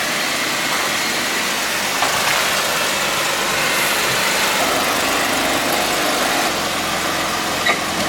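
A rebuilt custom Jeep Wrangler engine idles steadily outdoors, a medium-pitched, even running hum with slight vibration and no talk over it.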